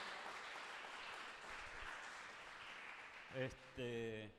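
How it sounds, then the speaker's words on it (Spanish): A church congregation claps in welcome during a Sunday service, a soft, even wash of applause lasting several seconds before a voice begins speaking near the end. "le damos la bienvenida con un fuerte aplauso."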